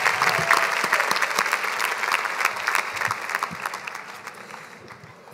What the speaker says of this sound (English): give your dean a big round of applause